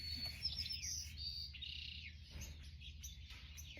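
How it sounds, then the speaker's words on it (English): Sparrows at a feeder chirp and twitter back and forth in quick, bright bursts over a low steady background hum, moderately distant. "There's another pair of like sparrows over at a feeder that are talking to each other."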